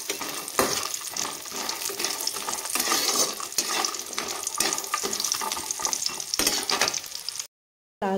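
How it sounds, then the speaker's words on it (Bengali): Lentil dumplings (bori) fry in hot oil with a continuous crackling sizzle, close and fairly loud, broken by repeated scraping stirs before a brief pause near the end. "আমি দিয়েছি তেল, এখন ভেজে নেব আমি ডালে বড়িগুলো"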